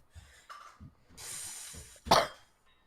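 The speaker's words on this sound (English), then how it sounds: "Cough." A person gives a few short coughs and breathy exhales close to the microphone, ending with one sharper cough.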